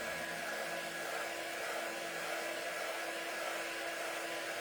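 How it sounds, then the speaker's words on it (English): A hair dryer blows steadily inside a T-shirt, giving a constant close whooshing roar with no pauses. "I'll take this and put my dryer inside too, and dry it a little bit from the inside out"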